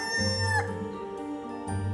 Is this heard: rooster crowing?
yes